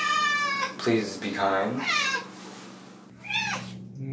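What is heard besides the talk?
cat meowing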